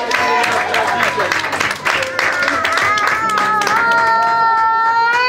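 A church congregation at a Sunday service clapping as a man comes forward, rhythmic hand claps mixed with loud voices and singing-like tones, steady and close throughout.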